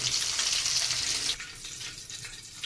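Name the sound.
whole vegetables frying lightly in oil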